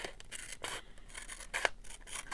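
Scissors cutting paper to make a pocket, several close crisp snips spaced about every half second, each a short bright slicing burst, with no talking.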